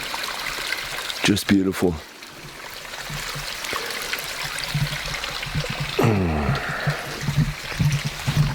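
Water trickles down a small stream, a steady broadband burble continuing throughout while a nearby voice speaks briefly over it.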